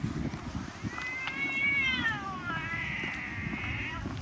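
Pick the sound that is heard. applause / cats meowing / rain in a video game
cats meowing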